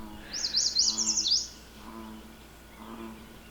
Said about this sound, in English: You hear the bullfrog?